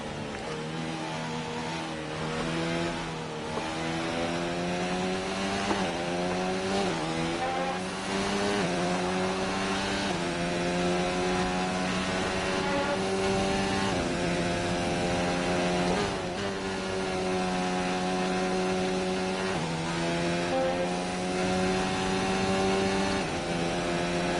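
Formula 1 cars from the F1 2019 video game race in the rain at the British Grand Prix, engines whining continuously with repeated upshifts and downshifts through the laps, loud and close with no talk.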